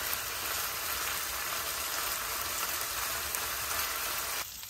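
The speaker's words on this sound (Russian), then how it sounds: "Кидываем мясо. Мясо у нас свинина. И жарим до золотистого цвета." Pork and onions sizzle loudly over high heat in a cauldron at an outdoor forest campfire, a dense, continuous frying hiss that drops slightly at the very end, with no talk.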